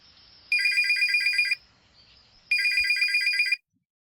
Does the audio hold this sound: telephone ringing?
yes